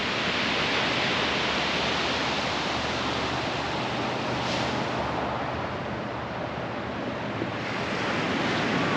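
Pacific Ocean surf at Wilson Creek State Beach in Northern California roars continuously as a dense, broadband wash of breaking waves, loud and unbroken, with some wind noise and no voices.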